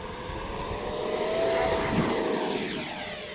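An FMS Viper 70mm electric ducted-fan RC jet with simulated afterburner flying past at speed, a loud sustained whine and rushing roar with a pitch sweep as it passes nearby.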